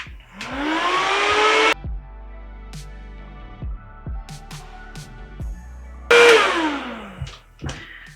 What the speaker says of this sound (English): With this diffusing method, you're basically just air drying your hair very fast